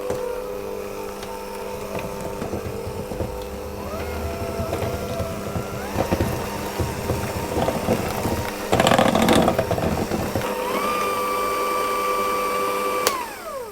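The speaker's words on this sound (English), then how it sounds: "I'm going to mix it on a low speed" An electric stand mixer runs on low speed mixing apricot pastry dough, giving a continuous mechanical whir with gear-like clatter and a few louder scraping bursts, close and without talk.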